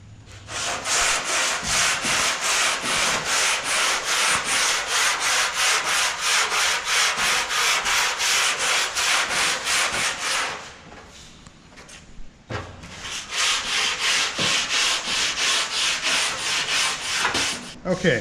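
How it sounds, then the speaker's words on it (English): Hand sanding Bondo body filler on a car body panel with 80 grit sandpaper, rapid rhythmic back-and-forth scratchy strokes close up, pausing for about two seconds before the strokes resume. "So let me start sanding on this and we'll see how we end up."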